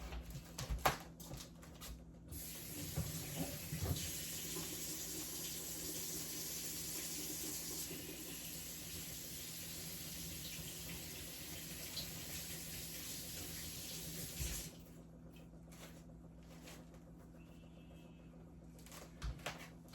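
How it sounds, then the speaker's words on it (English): Tap water running into a kitchen sink while hands are washed, a steady moderate splashing stream with a few knocks at the start, then the flow stops and only quiet room sound remains. "Let me wash my hands and I'll be right back."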